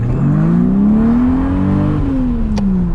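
A 1979 Jaguar XJ-S pre-HE with a five-speed manual conversion revs up while driving, its engine note rising steadily then easing off, loud and close throughout without any speech.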